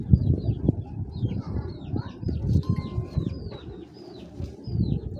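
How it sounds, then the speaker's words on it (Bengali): Balance pigeons coo close by in repeated low, throaty pulses, with faint chirps from other birds above and no talk. "খুব সুন্দর একটা ব্যালেন্সের কবুতর"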